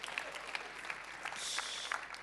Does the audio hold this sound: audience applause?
yes